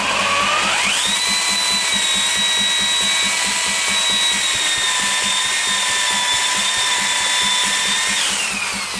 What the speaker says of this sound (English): only I've got to watch the drill, as I say, because otherwise it flies off the chuck